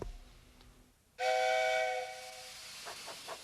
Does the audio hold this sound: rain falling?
no